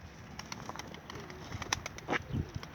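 An eight-month-old male pigeon gives a few low, soft coos against a noisy outdoor background during a coop visit, with faint rustling and scattered clicks around it.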